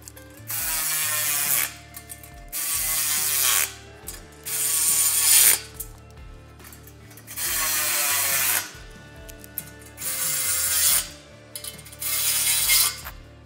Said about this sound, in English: we can tighten up this hardware now and then stand this frame upright